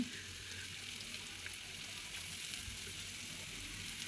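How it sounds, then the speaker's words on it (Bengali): Chopped onion and thickly cut garlic fry in hot oil while being stirred, giving a steady soft hiss and sizzle with faint scraping, quiet and continuous. "রসুন আর পেঁয়াজ একসাথে অনবরত নেড়ে চেড়ে ব্রাউন কালার করে নিব"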